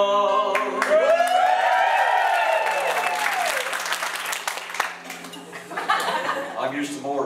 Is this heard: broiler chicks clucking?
no